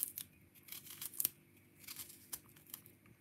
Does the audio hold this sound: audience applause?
no